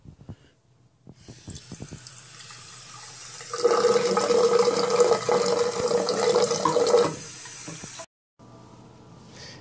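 Low-velocity hot water pours from a tap into a glass in a steady rush, getting louder midway before cutting off, with faint clinks at the start.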